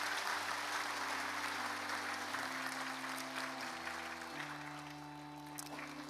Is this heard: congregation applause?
yes